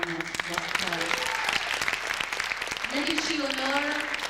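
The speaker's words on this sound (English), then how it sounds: "Please give Gary a big warm applause." A folk festival audience in Anchorage claps warmly and steadily, with shouts and voices rising above the applause from start to finish.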